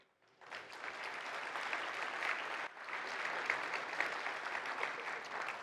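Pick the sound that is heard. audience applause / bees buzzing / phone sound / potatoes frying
audience applause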